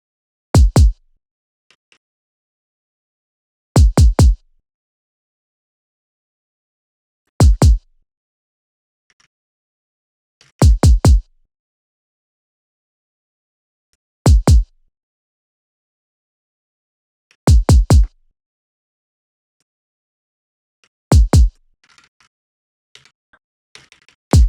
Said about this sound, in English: that's the main kick and the 16th kick.